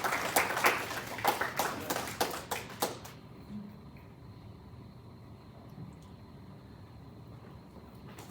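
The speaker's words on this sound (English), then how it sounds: "let's have a little round of applause for Ruth and Aaron" An audience claps at a talk for two guest speakers, a short burst of applause with distinct hand claps for about three seconds before it stops abruptly, leaving a quiet room.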